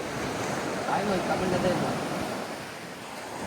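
Sea waves wash onto a sandy beach in a steady, broad roar of surf with gentle swells and some wind noise, loud and continuous throughout.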